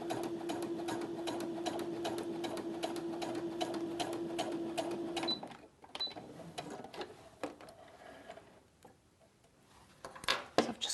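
A Brother sewing machine stitches a zipper using a narrow zipper foot, a rapid close rhythmic ticking of the needle for about five seconds, then a stop with scattered soft handling clicks and one brief final burst.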